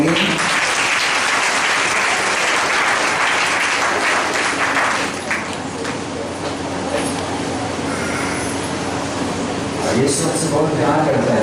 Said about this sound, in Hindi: हम फिर से यीशु के लिए जोरदार ताली बजाएंगे।